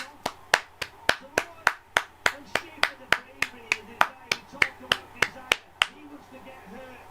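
Slow, steady rhythmic clapping, about seventeen sharp evenly spaced claps close to the microphone, played in tribute during a live Euro 2020 football watchalong, over faint background sound before stopping.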